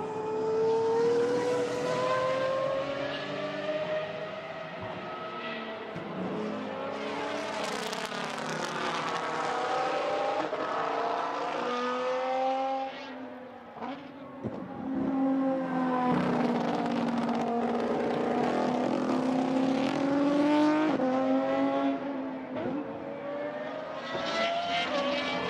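Pagani race cars, including a 6.5-litre V12, lapping a circuit in a GT1 demonstration race, loud revving engines rising and falling as cars pass close, with a brief lull midway.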